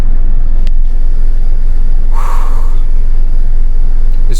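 VW Fox engine idling after being revived from sitting abandoned on a farm, a steady low rumble close by, with a brief louder hiss or whoosh partway through.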